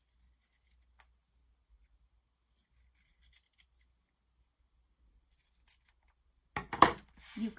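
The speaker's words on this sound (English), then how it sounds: "So I'll cut another one out here to show you." Soft scissor snips cut through a fabric stamp, a few faint, close crisp cuts near the end after near silence.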